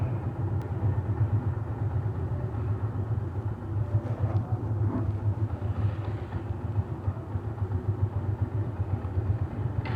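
A Rusi TMX-155 motorcycle engine idles steadily while warming up, a low, even rumble that stays close and constant throughout with no talking.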